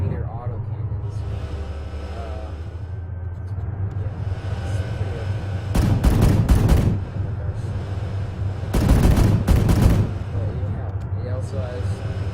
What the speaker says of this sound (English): So it's got 35mm auto cannons.